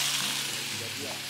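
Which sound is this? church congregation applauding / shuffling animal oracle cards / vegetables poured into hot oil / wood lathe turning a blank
vegetables poured into hot oil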